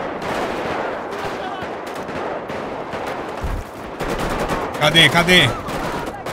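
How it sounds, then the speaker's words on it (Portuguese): Gunfire rattles through a GTA V gang shootout against the Ballas in a favela, with dense bursts of shots throughout, a brief low thump midway and a louder cluster near the end, all under a man's frequent speech. "Tá estralando o tiroteio aqui no meu ouvido"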